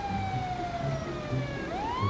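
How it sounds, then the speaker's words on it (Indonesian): An ambulance siren in GTA 5 with an Indonesian police mod, a loud wailing tone that glides slowly downward and then sweeps back up, close by and steady over traffic rumble, with no one talking. "Nah, itu ambulan datang."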